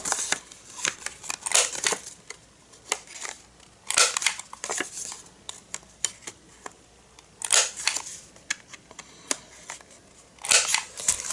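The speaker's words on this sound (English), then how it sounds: "now I'm gonna round the corners" A corner punch rounds paper corners for a scrapbook page, giving a series of sharp crisp snips and clicks in irregular bursts, close and clear with no talk.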